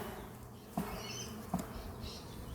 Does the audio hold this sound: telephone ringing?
no